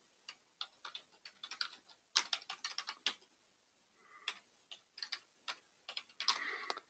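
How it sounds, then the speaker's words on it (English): Bursts of quick keystrokes on a computer keyboard tap out a password, clicking in irregular clusters with short pauses between runs, close and fairly quiet. "I'm going to type in my password."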